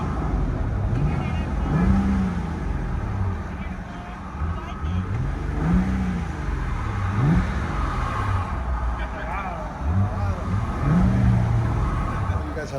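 Inside the cabin of a 2012 VW Passat 3.6 V6 with the rear muffler deleted, the exhaust drones deep and loud, with repeated revs swelling and falling in pitch across the stretch.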